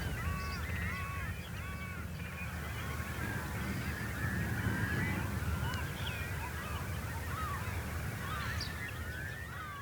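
A flock of wading and migratory birds takes flight from a salt marsh, with a steady chorus of honking, goose-like calls and caws over a low rushing background that continues throughout.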